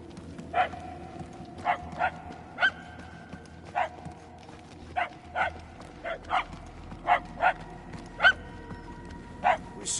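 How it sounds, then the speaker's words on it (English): Video game dogs in a maze giving off a run of clipped, evenly spaced barks, single and doubled, sounding fairly close over a low hum, while voices chat underneath. "The barks are getting louder, at least."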